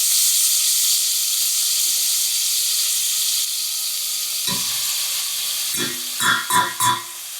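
Carrots and garlic frying in cumin-scented oil give a steady, loud sizzle and hiss, close by, broken near the end by a few scraping stirs.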